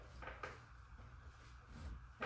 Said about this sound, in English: squeaky chair.